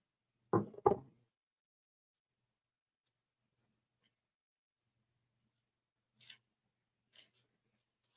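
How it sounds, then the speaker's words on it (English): Scissors trim off excess craft material for a purple and white spring angel, giving two quick close snips back to back, followed by two fainter brief cuts after a long quiet pause. "So I'm going to trim this down some. I don't need all of this. Trim off the excess."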